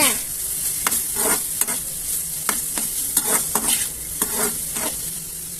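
A spatula scrapes and stirs Maggi noodles, capsicum, chili powder and coriander powder in a sizzling pan, with repeated clinks and scrapes at an uneven rhythm over a steady frying hiss.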